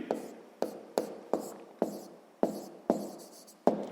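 A pen scratches math onto paper in close, quiet strokes, with about nine short, sharp taps and scrapes in an uneven rhythm.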